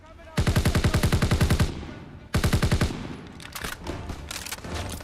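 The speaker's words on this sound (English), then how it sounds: "I've got a machine gun" Machine gun fire in the World War II shooter Call of Duty: WW2, two loud rapid bursts with an even, rattling rhythm, the second shorter, followed by scattered single gunshots and distant battle noise.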